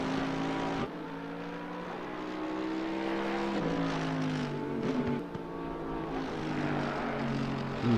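A Mercedes GT3 race car in Assetto Corsa Competizione at the Hungaroring roars steadily, its engine note dipping as it shifts down through the gears, with rising and falling harmonic sweeps and no talk over it.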